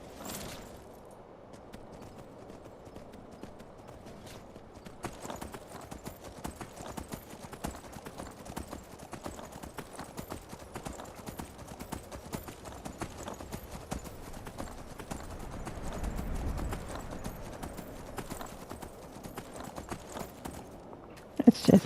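Horse hooves clip-clop steadily in the open world of Skyrim, a continuous rhythmic trot at moderate volume that holds for the whole stretch alongside faint game ambience.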